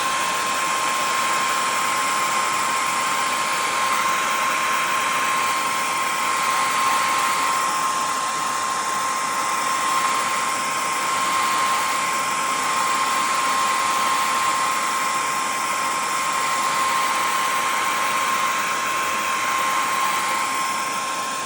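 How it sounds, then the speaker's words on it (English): A hair dryer blows steadily and loudly from start to finish, a constant whooshing hum with a faint high whine and no voices. "I'm going to go ahead and take my hair dryer and I'm going to blow"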